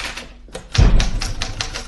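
Typewriter keys clattering in a domestic scene of a 1982 radio play, a quick burst of sharp clicks and thumps following a brief quiet moment, heard up close and alone.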